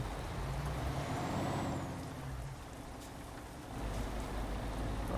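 A MAN TGX truck in Euro Truck Simulator 2 working through a hill start on a narrow street, a steady low engine drone with a faint rising whine, easing slightly in the middle, then swelling again, with no speech.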